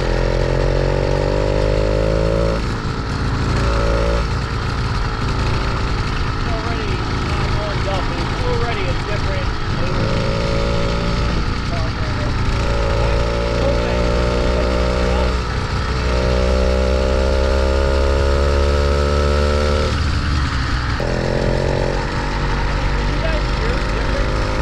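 An 85cc two-stroke motorized bicycle engine runs loud and close, buzzing with revs rising and falling in repeated bursts throughout.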